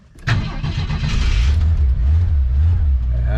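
An old carbureted motorcycle engine that has sat unused catches after a sharp start, then settles into a loud, rough, close idle.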